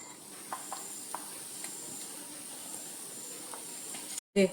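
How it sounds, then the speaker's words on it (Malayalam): Grated coconut roasts in ghee while being stirred, giving a faint, even sizzle with occasional soft scraping taps and a short knock at the end. "നെയ്ക്കകത്ത് തേങ്ങ ഒന്ന് വറുത്തെടുത്തിട്ടുണ്ട്"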